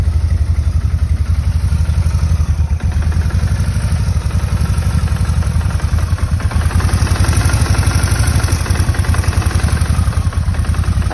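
Kawasaki motorcycle engine idling with the fuel enrichment knob in use: a loud, steady, close-up mechanical idle with a constant throbbing clatter and no change in pace.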